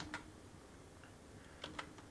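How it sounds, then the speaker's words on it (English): Typing on a laptop keyboard gives a few faint, sparse key clicks, one near the start and a quick pair near the end, quiet and close. "So if you just type in"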